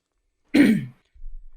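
One short, gruff throat clear from a man during an interview, close and distinct, then a faint low rumble.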